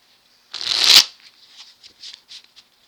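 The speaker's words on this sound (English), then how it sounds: "Trying to describe it as I'm shuffling." A deck of cards is riffled in one quick, crisp burst, followed by several soft taps and slides as the cards settle.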